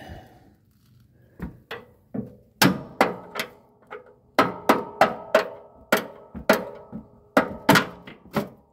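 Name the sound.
hammering out a pin on a Cub Cadet mower deck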